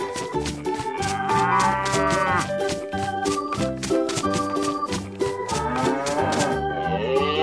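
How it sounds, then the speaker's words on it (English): Cow moos rise twice over a steady, rhythmic music backing, each call long and fairly loud. "Cow."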